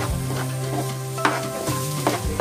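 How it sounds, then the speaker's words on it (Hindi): Amla paste for candy is stirred and roasted in a hot pan, giving a steady close sizzle broken by repeated scraping strokes of a spoon against the metal. "अब हम इसको 2 मिनट तक हम भून लेते हैं अच्छे से हमारी जो पेस्ट है।"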